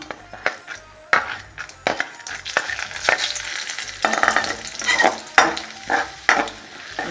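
Chana dal drops into hot oil where mustard seeds have already popped, for a spicy chutney. A close, lively sizzle is broken by sharp spoon scrapes and clinks against the pan at an irregular rhythm, with no speech.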